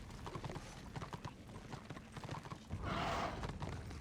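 Horse hooves clip-clop in a rapid galloping rhythm during a multiplayer video game, loud and close, with a brief whinny-like swell near the end over the steady hoofbeats.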